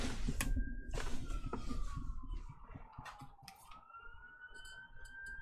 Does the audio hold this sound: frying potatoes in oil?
no